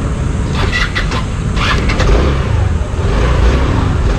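A SYM Tuscany 150 classic scooter runs on a test ride, its engine a steady mid-pitched hum under rushing wind and road noise, rising slightly as the throttle opens.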